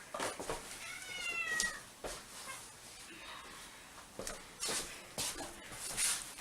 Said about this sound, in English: Sorry if you hear any meowing.